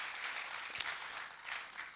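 Conference audience applauding, a steady, moderate wash of many hands clapping that runs through the whole moment with small swells and no speech over it.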